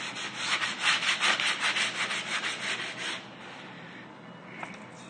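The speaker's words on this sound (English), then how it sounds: "sand it down" The corner of a rustic wood tabletop sanded by hand, a close, loud rhythmic rasping rub in repeated strokes that fade to a softer scuff after a few seconds, no voices.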